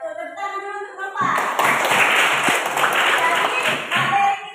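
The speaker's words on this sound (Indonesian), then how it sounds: "Tepuk tangan dulu untuk Nova" Students in an Indonesian-language class clap for a classmate named Nova, a dense burst of applause that starts about a second in after a teacher's voice and continues steadily to the end.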